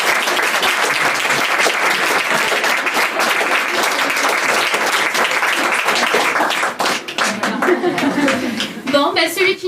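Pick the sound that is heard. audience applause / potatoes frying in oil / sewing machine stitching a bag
audience applause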